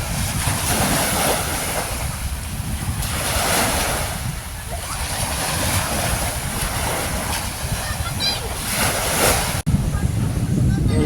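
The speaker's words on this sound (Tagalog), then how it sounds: "Sa likod niya, nandyan yung Lirang-Lirang Beach, Kapukan din." Ocean surf and wind along the shore at Kapukan on Biliran Island make a loud, continuous roar. Waves swell and fade beneath heavy wind buffeting, with a faint voice talking over it.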